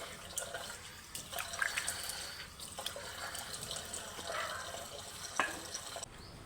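Tap water runs and splashes at a sink while a face pack of cream and powder is rinsed off. The flow is faint and steady, broken by brief splashes, with no talking.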